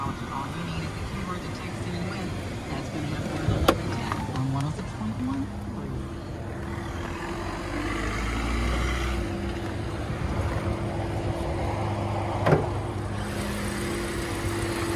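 A 2013 Hyundai Elantra's dual overhead cam, 16-valve engine idles smoothly, a low, even hum that continues steadily under nearby talk.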